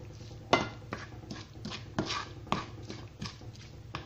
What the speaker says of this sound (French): Là, je mélange tout.